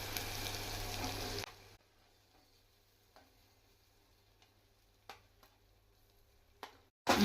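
Okra tossed into a pan with ginger and garlic for a home-style okra and tomato curry gives a loud, close sizzle for about a second and a half, then drops to near quiet with a few faint clicks and taps.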